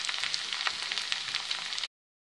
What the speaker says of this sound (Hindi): इसी तरह हम अपनी बाकी वेजिटेबल्स भी फ्राई करेंगे।